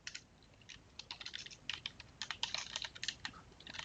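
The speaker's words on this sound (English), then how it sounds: "I can type in a URL" Quick bursts of key presses on a computer keyboard as a web address is typed, close and crisp, with brief pauses between clusters of strokes and no talk.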